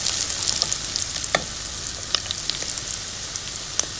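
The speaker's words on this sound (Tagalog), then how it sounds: "igisa ko para mas lalong masarap" Garlic sautés in a hot pan with a constant bright hiss and scattered sharp crackling pops, close and fairly loud, with no voices.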